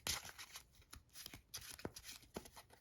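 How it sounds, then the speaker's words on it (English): A deck of Flower Cardian trading cards being shuffled by hand, with a series of quick papery riffles and flicks that come in bursts, close and clear, with no talking. "Let's put back both zebra grasses in our deck. Put these back, and we're going to shuffle."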